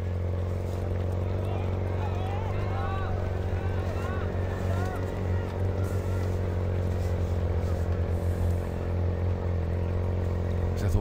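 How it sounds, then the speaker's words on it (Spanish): Steady engine hum from the motorcycles carrying cameras alongside athletes in the men's 50 km race walk at the Beijing 2015 World Championships, a continuous droning drone close by under constant commentary talk. "Ese zumbido que oís, ese ruido, es el de las motos que acompañan a los atletas"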